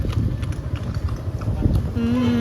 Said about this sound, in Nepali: यहाँ चाहिँ यस्तो घोडा दौड चलिरहेछ घोडा दौड